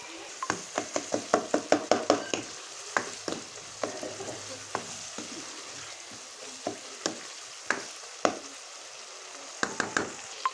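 Peas and potatoes cooking in spice masala in a pan for aloo matar with eggs: a soft sizzle runs underneath while a spoon clicks and taps repeatedly against the pan, close and fairly quiet.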